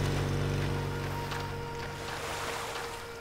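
Motorboat engine in the video game Far Cry, a steady low droning hum running beneath wind and water ambience at a moderate distance.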